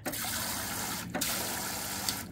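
Water sprays steadily from a small shower head fed by a teardrop trailer's improved water pump, a continuous close hiss with a brief break in the middle.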